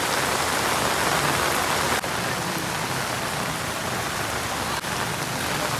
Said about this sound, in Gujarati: તો હજી છે ને વરસાદ ચાલુ જ છે.